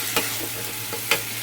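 Onion paste frying in a pan for fish curry gives a steady, close hiss of sizzling oil, with two brief spoon scrapes standing out over it.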